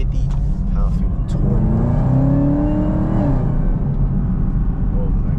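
A Camaro ZL1 with 650 horsepower, driven in sport mode, accelerates hard with a deep rising engine drone heard from inside the cabin, while someone talks over it.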